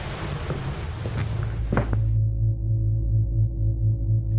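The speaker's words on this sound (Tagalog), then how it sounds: "Malakas pa rin ang ulan." Heavy rain falls in a dramatized Tagalog horror story, a rough wash of noise for about two seconds that cuts out, leaving a low steady droning hum.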